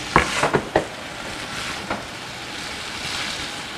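Vegetable jalfrezi being mixed in a pan after a sprinkle of lemon juice, a few quick scraping knocks at the start, then a soft steady sizzle and faint clatter with no talking.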